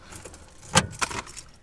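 Keys jangle in the ignition of a truck, a short metallic rattle with two clear bursts close by, no talking over it.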